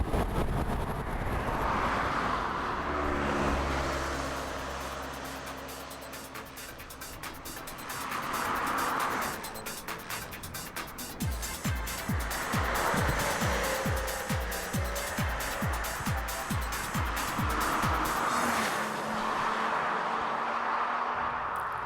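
A 2000 Porsche Boxster S exhaust rasps and rises through the revs while driving, loud and close with repeated gear-change surges and pulsing low engine notes, no talking over it.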